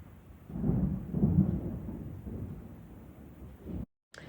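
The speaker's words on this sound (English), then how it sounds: "I love the rain, but not the thunder." Low, muffled thunder rumbles and rolls through a rainstorm, building and fading over a few seconds before cutting out abruptly.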